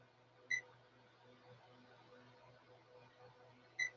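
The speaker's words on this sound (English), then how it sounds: "All right, so that was 1 beep." An RC car speed controller in programming mode gives a short electronic beep, faint and brief over a low background hum, with a second identical beep near the end.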